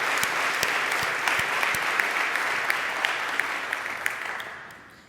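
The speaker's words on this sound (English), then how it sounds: "So a round of applause again for all of you." Sustained applause from a large ceremony audience fills the hall, dense steady clapping with a few sharper nearby claps standing out, fading down at the end.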